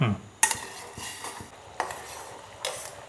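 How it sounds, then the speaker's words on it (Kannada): A spoon stirs jaggery melting in water in a metal pot for a Mangalore-style rice kalthappa, giving a few sharp metallic clinks at uneven intervals over a faint, steady background. "ಈ ಬೆಲ್ಲ ಸಂಪೂರ್ಣವಾಗಿ ಕರಗೋ ತನಕ ನೀವು ಇದನ್ನು ಕುದಿಸಬೇಕು"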